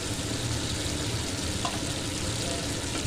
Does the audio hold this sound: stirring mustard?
yes